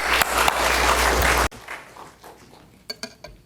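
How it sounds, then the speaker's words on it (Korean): A church congregation at a spring revival service gives welcoming applause for the pastor: a dense burst of clapping for about a second and a half, then it cuts off abruptly, leaving room tone and faint scattered sounds. "우리 목사님 환영의 박수 우리로 맞이하겠습니다."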